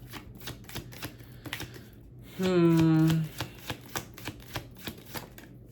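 A tarot deck is shuffled in a rapid series of crisp card flicks, with a short hummed or sung tone cutting in midway.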